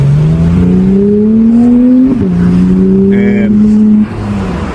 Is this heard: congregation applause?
no